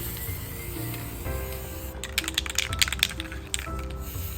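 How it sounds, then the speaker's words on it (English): White paint sprayed in short bursts from a spray bottle onto an abstract painting, a series of quick close hissing spritzes in the second half over faint background music. "Just going to spray some of the white on the areas that I want to blend."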